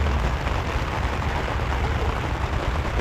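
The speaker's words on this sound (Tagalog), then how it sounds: "Lakas ng ulan." Heavy rain pours steadily at Sylvan Lake, Canada, a dense, loud roar of water with a deep rumbling undertone and no voices.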